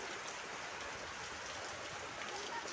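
Steady rain falls outdoors during monsoon-type weather, a dense, even hiss of drops that continues unbroken throughout, fairly close but soft overall.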